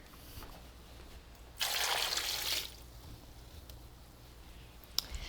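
A short burst of water pouring into a pot on the stove, lasting about a second, then quiet kitchen background with a faint clink near the end.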